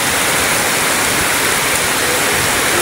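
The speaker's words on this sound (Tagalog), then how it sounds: "napakalakas ang ulan" Very heavy rain pours down steadily during a flood in Tondo: a loud, dense, unbroken roar of downpour, close and alone, with no pauses.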